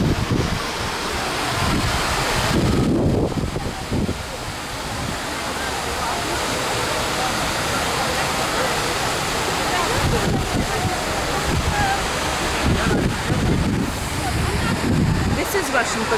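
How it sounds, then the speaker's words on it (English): Outdoor water and breeze in a large city park, a steady broadband wash of flowing water with wind gusts buffeting the microphone, people talking faintly at moments. "The breeze of the water."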